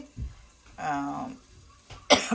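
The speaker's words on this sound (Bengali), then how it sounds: "কাশি হচ্ছে আপনার" A sharp cough near the start, a voice sound in the middle, then another abrupt cough burst at the end, all close and moderately loud, in a kitchen where eggplant and cabbage are frying.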